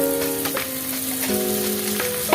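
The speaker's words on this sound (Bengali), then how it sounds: "এখন আলুটা দিয়ে দেবো ভাজা আলুটা" Fried potatoes drop into a pan of spiced masala and set off a steady, close frying sizzle that continues throughout, with a faint tonal hum in the background.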